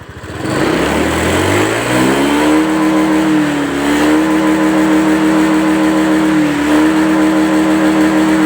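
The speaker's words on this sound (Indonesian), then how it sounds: "Coba kita tes hidup. Hidup teman-teman, enak ini. Coba kita gas." A Honda Scoopy scooter with a hard-starting fault idles loudly and close, then revs up in a rising whine that settles into a steady, buzzing high idle.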